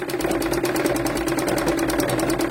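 A sewing machine runs steadily while stitching a blouse in a tailoring class, its rapid even needle rhythm whirring close and continuous throughout.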